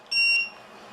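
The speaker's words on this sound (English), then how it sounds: "Makes a beeping noise" A battery-powered sonar fish finder powering on gives one short, bright electronic beep that rings out clearly for a fraction of a second before a faint hum remains.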